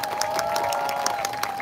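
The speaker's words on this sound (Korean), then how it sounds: "다시 한번 힘찬 박수 부탁드립니다" A crowd at an outdoor trade union rally claps in quick, roughly regular beats with some cheering mixed in, over a steady humming tone from the sound system.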